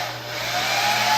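A hair dryer runs on a cool, high setting, a loud steady close-up whoosh of blowing air with a constant motor whine, unbroken and without talk.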